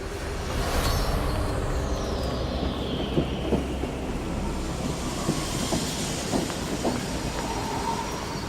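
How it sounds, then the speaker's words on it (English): Train rolling along rails with a continuous rumble and rhythmic clickety-clack of wheels over joints, a long falling whine at the start, steady and fairly near. "Here's your train."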